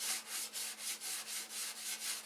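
Rhythmic back-and-forth strokes of 220-grit sandpaper on a model airplane fuselage, close and soft, about four strokes per second in a steady scratchy rasp with no voices.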